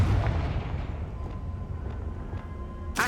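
A loud boom opens the Confringo fire spell explosion in the video game Hogwarts Legacy and rumbles away over a couple of seconds, with a second burst at the very end and no talking.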